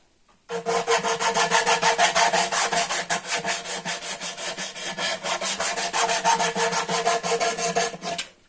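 Steady, loud grinding and rasping of a power tool rounding the edges and corners of a wooden board, continuous with a pulsing texture, close up and alone for about eight seconds.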